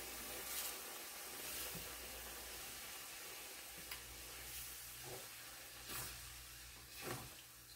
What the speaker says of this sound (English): Let me give that a stir.